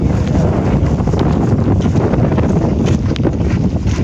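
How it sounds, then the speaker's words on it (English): Strong wind on an outdoor hike, roaring steadily across the microphone as a loud, continuous buffeting rush throughout, with no voices. "I think it probably sounds windy too"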